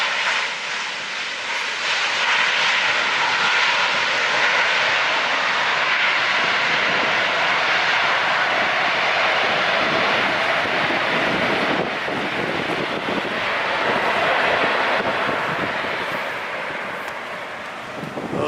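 A jet airliner with Rolls-Royce engines at LAX, a broad roaring engine rush that swells and fades as it passes, steady and fairly loud with some wind noise.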